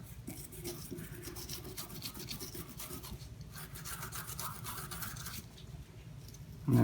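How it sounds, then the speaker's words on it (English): A toothbrush scrubs parts of a disassembled S&W M&P 22 Compact pistol, with continuous close, dry bristle rasping in quick back-and-forth strokes, steady and moderately quiet, with no talking. "We can get to everything that we need to get to with the toothbrush."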